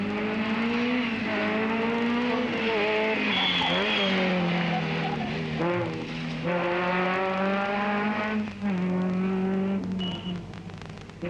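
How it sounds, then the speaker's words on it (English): A Peugeot 309 GTI rally car races in the 1991 Madeira Rally, its engine revving up and down through gear changes with tire squeal, loud and continuous. "Antonio Abel was heading towards a 6th place finish with the 309 GTI"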